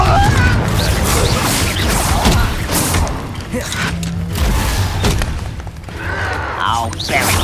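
Repeated booming blasts and crashing impacts from Confringo fire spells in the Hogwarts Legacy video game, loud and close over a busy battle din, with a voice briefly heard amid the explosions.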